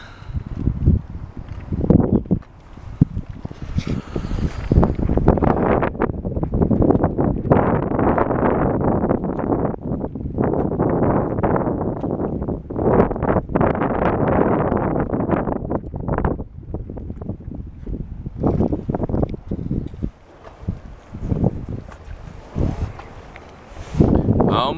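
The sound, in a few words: wind and building waves while canoeing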